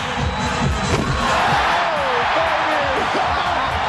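An arena crowd at a basketball dunk contest roars and cheers in a loud, sustained wave, with whoops rising through it and a commentator talking over the noise.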